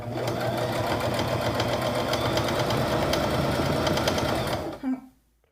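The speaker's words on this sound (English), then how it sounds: "I do know to hold the threads and make a couple initial stitches, and then a back stitch or 2, and then off we go" A sewing machine stitches a zabuton meditation mat in a steady, fast, close mechanical whir with a rhythmic needle chatter, running continuously before stopping abruptly near the end.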